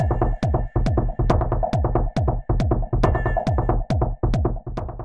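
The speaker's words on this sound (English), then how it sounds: "So quite a lot of reverb." A Jomox Alphabase drum machine pounds out a steady, heavy kick pattern drenched in reverb, each booming hit ringing into the next over a continuous droning tone, loud and alone with no voices.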